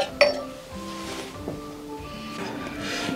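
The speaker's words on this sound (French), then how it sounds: "vous continuez à boire, vous trinquez." Glasses clink together in a toast during a tabletop role-playing session, with a few bright, ringing taps spaced out over a quiet room background.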